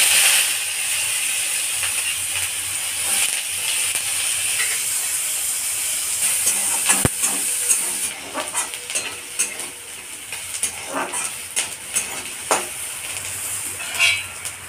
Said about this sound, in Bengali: এবার রসুন আর লঙ্কাটা হালকা করে ভেজে নেব।